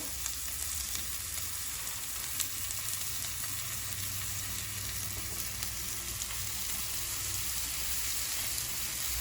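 A steak sizzles steadily in a hot pan, a loud, even crackling fry that continues throughout with no talking.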